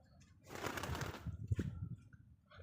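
A pigeon gives faint, low coos close by, with a soft burst of fluttering or rustling early on and quiet murmuring coos after it.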